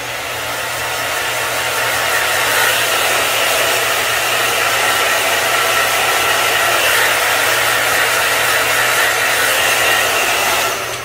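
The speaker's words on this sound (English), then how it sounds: "so now we're going to blow dry a little bit." A hair dryer blows steadily on a full lace wig during customization, a loud, continuous whooshing roar that holds for the whole stretch with no talking.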